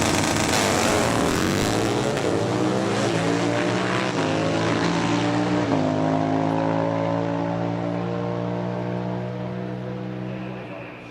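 Buell drag racing motorcycles at an AHDRA event tear down the track with loud, rising engine howls whose pitch climbs through the gears before fading slightly at the end, with announcer talk over the roar.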